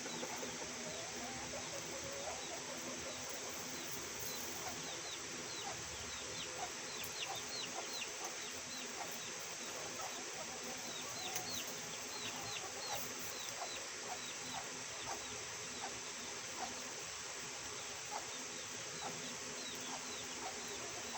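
Chickens, including a small chick, cluck and chirp in a yard, a scattered stream of soft calls over steady background hum, moderately distant and with no voices.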